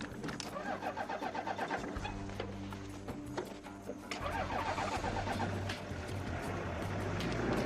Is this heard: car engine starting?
yes